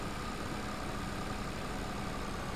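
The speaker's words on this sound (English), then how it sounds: "Or maybe it is just a slow tractor." Slow Massey tractor engine in the video game Farming Simulator 22, a steady low rumbling idle-like drone that holds even and continuous throughout with no talk.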